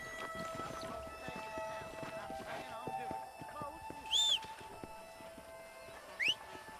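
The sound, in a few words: horse in Red Dead Redemption video game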